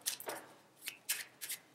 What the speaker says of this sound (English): I will shuffle one more time.